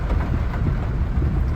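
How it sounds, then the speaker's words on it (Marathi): Heavy rain pours down at a crowded main gate, a dense, steady low rumble and hiss filling the whole moment, with no voices standing out. "पाऊस जोरात चालू आहे"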